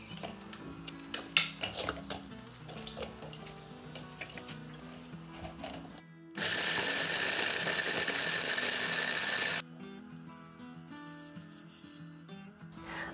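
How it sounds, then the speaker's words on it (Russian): Blender crushing chocolate cookies and chocolate-layered wafers for a no-bake chocolate cheesecake: a rough grinding rattle, then a loud steady whir for a few seconds that stops and drops to quieter rattling, with no talk. "Понадобится шоколадное печенье, которое надо измельчить в блендере."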